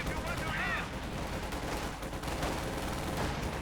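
Gunfire pours onto German Panzer tanks in a Company of Heroes 2 match, a steady crackle of shots running throughout beneath a commentator's voice.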